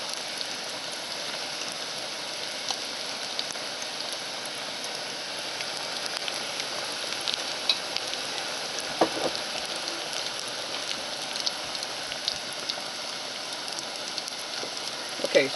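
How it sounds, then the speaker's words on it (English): Pork pieces fry in hot oil in a pan, giving a steady, close sizzle and crackle with occasional louder pops, with no talking over it. "so while this is frying"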